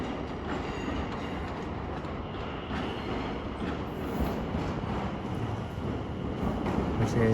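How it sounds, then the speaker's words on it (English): A London Overground train arriving from Enfield Town at a London terminus, with a steady rumble of wheels and carriages rolling in and a faint metallic squeal, continuous and fairly close. "incoming will be a terminating London Overground service from Enfield Town"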